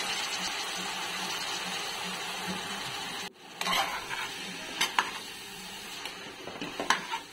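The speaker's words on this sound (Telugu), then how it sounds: "ఒకసారి కలుపుకోవాలి గరిటెతో." Brinjal pieces stirred with a ladle in a cooking pan, a continuous close sizzle broken by a brief pause, then clinks and scrapes of the ladle against the metal.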